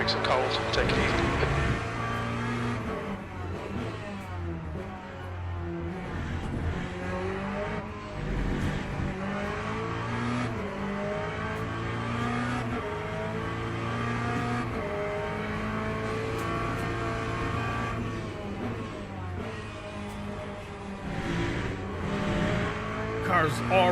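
Race car engine revving and changing pitch through gear shifts in the Le Mans Ultimate racing game, with tire squeal, steady and close throughout while a voice talks over it.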